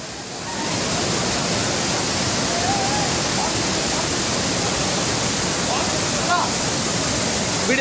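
The Dudhsagar waterfall, heard downstream from below a bridge, roars as a loud, dense, unbroken rush of falling water that fills the whole clip after a quick fade-in, with faint voices barely showing through.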